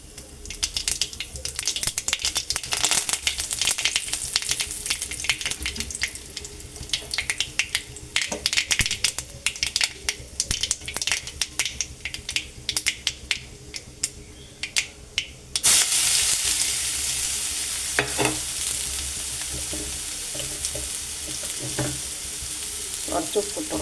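Curry leaves sizzle and spit in hot sunflower oil with mustard seeds, a loud continuous frying hiss crackling with pops, growing brighter and denser partway through.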